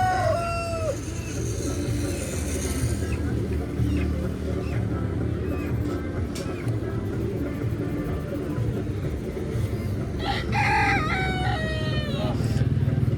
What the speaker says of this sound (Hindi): मुर्गियाँ देखें